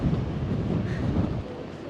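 Strong wind buffeting on a seaside walk, a steady low rumbling roar of gusts against the microphone, loud and continuous with no talk.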